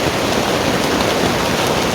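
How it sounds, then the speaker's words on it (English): Warm rain falling at a beach gives a dense, even hiss of drops on surfaces, loud and close, with no voices. "The one good thing is it's warm rain."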